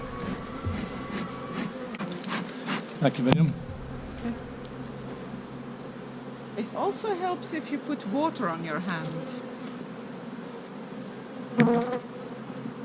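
A swarm of honeybees buzzes steadily around a hive up close during a hive inspection, while a person speaks briefly over the droning hum.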